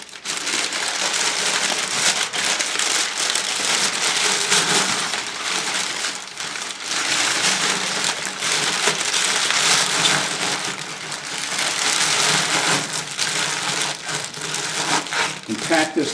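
Newspaper or packing paper crinkles and crumples continuously as it is stuffed loosely into a container while potting an artificial tree, a steady, fairly loud rustling that swells and dips for about sixteen seconds.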